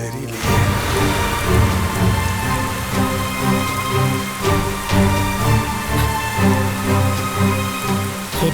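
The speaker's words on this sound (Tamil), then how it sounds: "என்ன இப்படி ஒரு மழையா இருக்கு?" Heavy rain pours steadily and loudly on surfaces, with deep rolling thunder beneath it throughout and repeated rumbling swells, loud and close with no talking.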